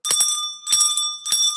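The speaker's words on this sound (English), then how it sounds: "They said I should ring bell for you." A small bell is struck three times in a loose rhythm, each strike bright and ringing with a sustained metallic tone that lingers between hits, with no voices.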